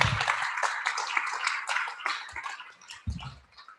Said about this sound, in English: How about a round of applause for our students tonight?